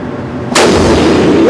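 A single loud, close rifle shot fired with Hornady ammunition during an ammo lot test, cracking sharply after a brief quiet moment and leaving a lingering boom.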